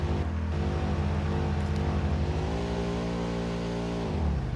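Explorer vehicle in Satisfactory driving with a steady, loud engine drone whose pitch shifts as it revs and eases off, continuous throughout with no talk.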